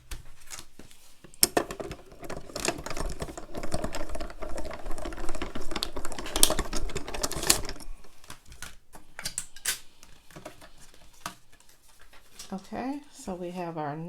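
A Diamond Press die-cutting machine cuts out a team-sports stamp piece with a steady, rapid mechanical clatter and ratcheting. The sound is busy and close, eases off partway through, and ends with scattered clicks.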